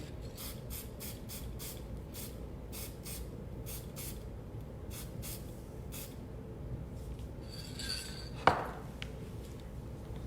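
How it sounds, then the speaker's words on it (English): Paint is sprayed onto the bill and webbed feet of a taxidermy bird during restoration, heard as a run of short, evenly spaced hissing bursts, then a sharp click and a longer spray near the end. "We'll give it a little spray."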